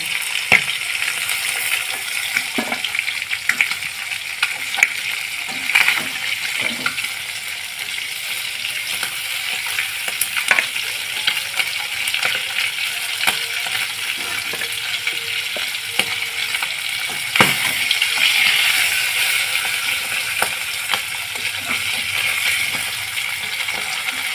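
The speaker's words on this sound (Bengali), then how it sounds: "আমার মাছের মাথাগুলো সব ভাজা হয়ে গিয়েছে এইভাবে আমি লাল লাল করে ভেজে নিয়েছি" Katla fish heads fry in hot oil in a kadai with a loud, steady crackling sizzle throughout, broken by scattered sharp clinks and scraping knocks of a utensil against the pan.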